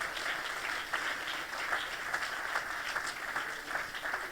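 A church congregation claps loudly and steadily, the dense applause sustained throughout with no voices over it.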